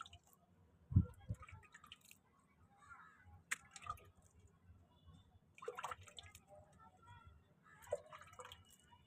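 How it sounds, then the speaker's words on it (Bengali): Adenium seeds being watered give soft, scattered drips and squishy wet sounds, close and faint, with a few quiet thuds. "হ্যাঁ, ছিপছিপ করে জল দেওয়া হচ্ছে।"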